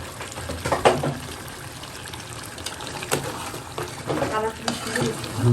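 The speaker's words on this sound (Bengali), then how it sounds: "এখানে কষানো হচ্ছে মাংস।" Meat sautéing in a pan with spices and dried plums, a soft sizzle broken by scraping stirs and clatters, while voices talk faintly nearby.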